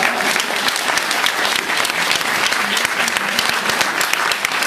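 A church congregation claps in praise during a Bulgarian worship service: a dense, steady roar of many hands applauding together, loud and continuous throughout.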